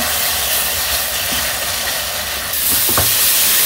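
Ground chili and coriander masala fries in a pan for a village-style chicken curry, giving a loud, steady sizzling hiss that swells partway through, with a few soft scraping knocks.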